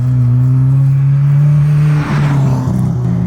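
Alfa Romeo sports car engine revving hard and loud with a steady high drone that rises, then shifts through a gear change partway through, close and alone with no talk.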